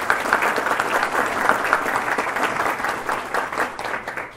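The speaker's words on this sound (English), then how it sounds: "Let's give all of our Chairman's Circle members a round of applause." Audience applause for sponsors at a county education event, a steady dense round of clapping from a large crowd, even and sustained throughout with no voices over it.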